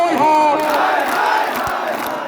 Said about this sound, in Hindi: ए ताली बजा करके बोलेगा जय सोसी हो